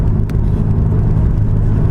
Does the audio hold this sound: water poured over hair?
no